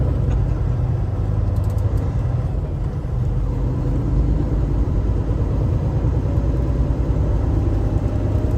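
A steady, loud truck engine rumble, freshly changed oil, runs throughout, deep and continuous like a large vehicle idling up close, with no voices over it.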